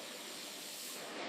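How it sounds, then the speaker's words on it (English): Arrays of fine high-pressure water jets spray pomegranates from all sides inside a fruit-rinsing tunnel, giving a steady, dense, loud hiss that runs unbroken from start to finish. "Multiple arrays of fine jets spray the pomegranates from all sides, removing residual cleaning agents."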